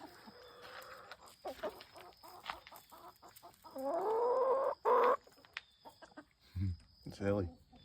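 Chickens cluck and squawk close by in an outdoor pen, with a sustained rising call from one bird and light background noise.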